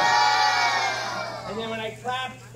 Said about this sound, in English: When it goes up, everybody make this noise. Everybody go, whoa!